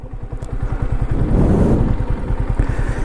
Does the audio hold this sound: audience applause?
no